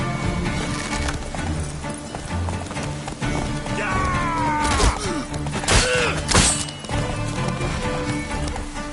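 Horse hooves in Witcher 3, a rhythmic clip-clop gallop running under a busy fight scene with clashing impacts and shouted voices layered over it.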